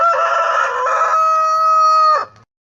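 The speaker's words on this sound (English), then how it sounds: "Yes, it's a rooster" A rooster crows once, loud and close, a long drawn-out cock-a-doodle-doo that ends abruptly in silence.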